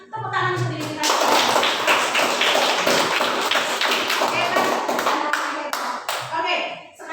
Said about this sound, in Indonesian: kita berikan tepuk tangan sendiri kita